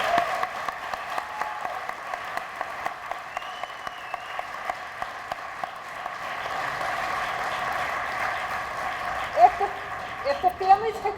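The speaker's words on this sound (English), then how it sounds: "let's do another round of applause for our inductees" An audience at a Boys & Girls Club Hall of Fame induction applauds the inductees, with steady clapping held at moderate distance for several seconds before thinning out near the end.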